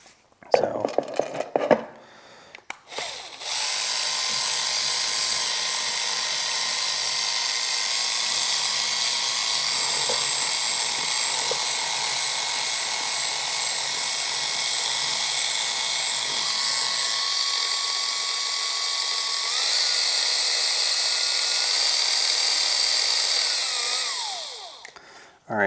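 A Lake Country System 4000 pad washer spins a microfiber polishing pad, a loud, steady high-pitched whine held for about twenty seconds, with a pitch shift near the end as the setting changes, followed by spin-down, after some clunks at the start.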